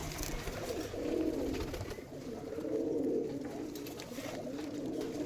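Domestic pigeons kept for sale coo nearby in low, throaty, rolling phrases that swell and fade in a repeating rhythm, heard clearly with no talking over them.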